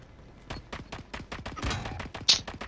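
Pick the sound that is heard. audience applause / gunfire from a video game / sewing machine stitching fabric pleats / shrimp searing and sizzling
gunfire from a video game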